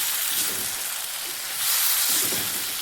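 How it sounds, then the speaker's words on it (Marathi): Eggplant frying dry in a pan with no water added, a steady loud sizzle and hiss close up that swells briefly toward the end. "चांगलं फ्राय होऊन देणार आहे ह्यात पाणी नाही टाकायचं"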